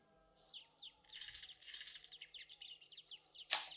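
Quick series of high, bright chirps in a rapid cartoonish flutter from the anime One Piece, fairly quiet, ending with a sharp burst.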